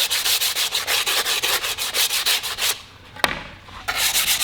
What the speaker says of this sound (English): Basically you just sand slightly over where you just fixed it.